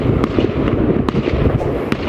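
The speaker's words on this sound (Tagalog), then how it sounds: "Takot po ang anak ko sa paputok, sa mga fireworks." Fireworks bursting during New Year's celebrations in Poland, a dense continuous crackle and rumble of distant and mid-range explosions with a few sharper bangs standing out, no voices.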